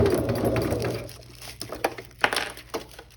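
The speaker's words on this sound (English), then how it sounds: "So we're not gonna back tack, I'm just gonna sew." Sewing machine stitching vinyl fabric, a soft mechanical whir that fades into scattered light clicks and taps as the fabric is handled, close and fairly quiet with no talk.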